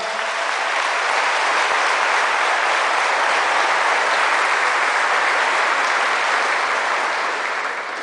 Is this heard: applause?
yes